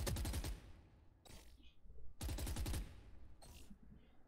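Rapid automatic gunfire from the video game Valorant, two loud sustained bursts separated by quieter stretches with fainter shots and game effects in between.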